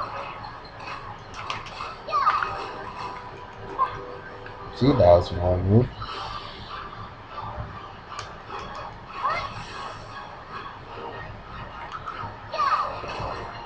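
A dog in the video game Dragon Nest yelps and whimpers in a few short, high, sharp bursts amid game clatter, with a person talking over it.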